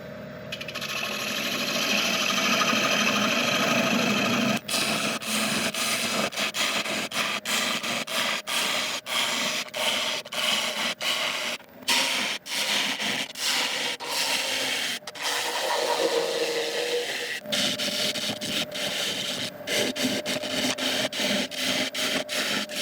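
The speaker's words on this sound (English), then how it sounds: "let's start hollowing this out." A woodturning lathe hollows a highly figured maple bowl turned from guitar stock: a steady, loud scraping rub of tool on spinning wood, broken by frequent short gaps as the cut lifts and restarts.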